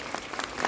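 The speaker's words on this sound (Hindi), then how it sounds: "एक बार जोरदार तालियां मैडम" Crowd applause at a motivational business seminar, a short burst of clapping with a few louder claps near the end.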